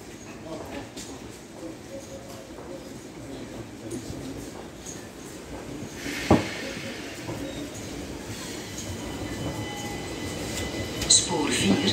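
A Desiro train rolls into Lier station with a low rumble and rattling wheels, a couple of sharp clanks cutting through the steady noise.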